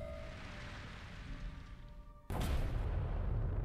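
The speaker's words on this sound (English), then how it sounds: "Oh, hey, explosion." In Shadow of Mordor, a steady game ambience with a faint tone suddenly gives way to a loud explosion. The blast leaves a sustained, roaring rumble that continues to the end.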